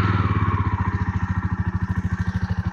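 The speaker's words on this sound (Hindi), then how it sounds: "ये एग्जॉस्ट नोट है" A 2021 Jawa Perak motorcycle's exhaust thumps at a steady idle, a loud, close, even low pulsing that continues with no talking over it.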